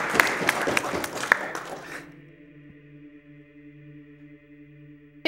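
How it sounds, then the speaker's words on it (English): Audience applause at a speedrun charity marathon event, dense clapping for about two seconds that then cuts off, leaving a quiet steady hum. "slow clap"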